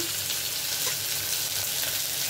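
Tomato pieces frying in hot oil with onion-type ingredients for a brinjal curry, a dense, steady sizzle that stays loud and close throughout without any voice.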